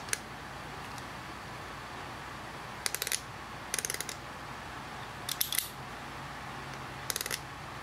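Aperture ring of a 1977 Nikon Zoom-Nikkor 35-70mm f/3.5 AI lens clicks through full f-stops, small crisp ratcheting clicks in short separate bursts over quiet room hiss, close up and alone.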